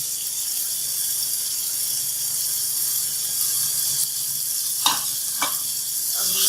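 Steady sizzle of cluster beans (gawar phali) and chicken frying in a pan, a continuous hiss with a couple of brief stirring scrapes near the end, and no voices.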